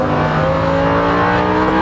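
A Lamborghini Huracan accelerating hard on a race track at Exotics Racing in Las Vegas: a loud, sustained engine roar that stays strong and close for the whole moment, with no voices over it.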